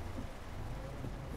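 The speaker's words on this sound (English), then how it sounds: "The rain's pretty cool in this game" Rain in the video game Euro Truck Simulator 2, a steady, dense hiss of rainfall with a low rumble underneath, continuous and fairly faint, with no voices over it.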